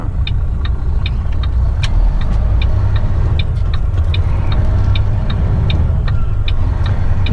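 Steady low rumble of a heavy haul truck cruising westbound on the highway, loud and continuous, with regular faint ticking clicks, likely a turn signal, running over the engine drone.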